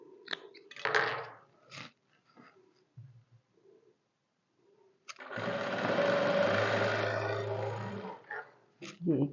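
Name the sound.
sewing machine stitching trousers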